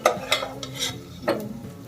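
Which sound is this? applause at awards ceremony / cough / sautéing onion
sautéing onion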